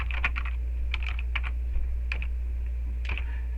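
Computer keyboard typing in short bursts of quick keystrokes separated by pauses, close and clear over a steady low hum, with no one talking.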